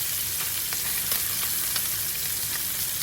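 Steak frying in a pan that holds bacon grease, a dense continuous hiss and crackle at close range, fairly loud and even throughout, with a few brighter pops and no voices.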